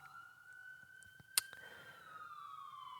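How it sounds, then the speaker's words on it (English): Sirens wail faintly in the distance, a steady tone slowly sliding in pitch, with a single sharp click partway through. "You can hear those sirens in the background."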